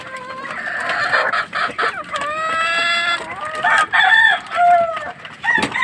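Rhode Island Red chickens cluck and crow up close in a farmyard, with several loud, drawn-out crows layered over sharp, choppy clucks in quick irregular bursts.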